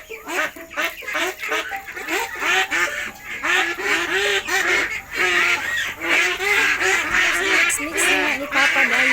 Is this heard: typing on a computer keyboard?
no